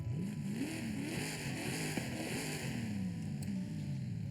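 A simulated 6.2 liter V8 engine in Forza Horizon 5 hums and revs with a gliding pitch, rising and falling smoothly over a steady background drone, fairly quiet.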